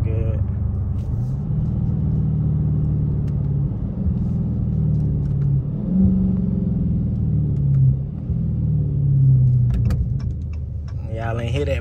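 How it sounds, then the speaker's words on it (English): A deep, loud Dodge Scat Pack 392 engine rumble idles steadily, rising briefly in a couple of revs, with a throaty exhaust tone filling the clip. "listen to the engine, man. The pipe sounds so good."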